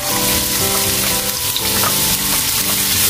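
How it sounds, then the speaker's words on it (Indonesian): Anchovies (teri) sauté in hot oil, a loud, dense, continuous crackling sizzle with popping spatters throughout, close and with no voices. "pertama-tama saya tumis dulu si terinya ya"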